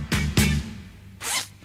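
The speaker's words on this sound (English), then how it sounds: "That was a zipper." A clothing zipper is pulled close up in three quick rasping strokes, two in rapid succession and another after a short pause.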